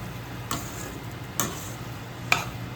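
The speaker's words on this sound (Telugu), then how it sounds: "కొంచెం వేయించుకుంటే ఇలా తిప్పుకుంటూ" Prawns for a curry fry quietly in a pan under a faint steady hiss, with three sharp clicks of a spoon against the pan as they are stirred.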